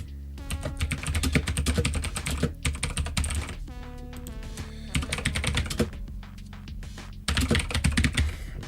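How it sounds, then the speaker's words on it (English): A noisy computer keyboard typed on in quick clacking bursts separated by brief pauses, close up and fairly loud, with no one talking over the keys. "I have a loud, annoying keyboard too"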